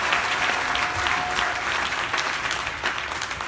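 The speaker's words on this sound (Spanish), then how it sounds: "Someone give a hand clap unto the glory of God." A church congregation claps together in sustained, steady applause that fills the room from start to finish, with no voices rising above it.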